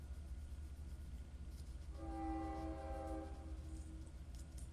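A train rumbles past with low continuous rail noise, and a horn sounds partway through at moderate distance.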